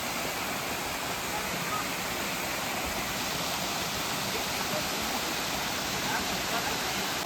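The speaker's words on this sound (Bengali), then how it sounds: "আমরা এই হচ্ছে টুমনা ফলস" Tumna Falls in Purulia roars with a steady, loud broadband rush of falling water that stays constant throughout, with faint voices of people bathing nearby.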